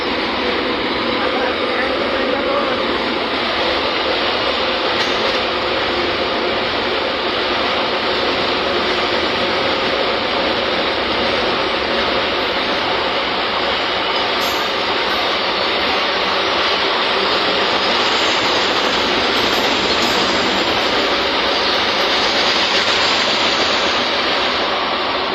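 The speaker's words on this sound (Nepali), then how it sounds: "आयो ट्रेन चाहिँ तेलको" An oil tanker freight train rolls past at a station, a steady loud broadband rumble and rush of wheels and wagons holding constant for the whole stretch, with a voice briefly audible over it.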